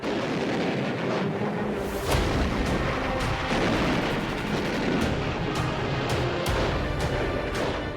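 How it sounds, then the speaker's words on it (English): A naval fleet's big guns pound away in a prolonged wartime bombardment of an island in the Pacific, heavy booms overlapping in a dense, continuous roar of artillery fire. "Then, the big guns of the fleet open up."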